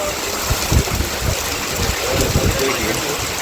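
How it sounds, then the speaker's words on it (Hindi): Steady rain falls on a mountain trek route, a dense continuous hiss with occasional low thumps of nearby activity, fairly loud and without talking. "बारिश ऐसे हो रही है, ऐसा ही है भाई।"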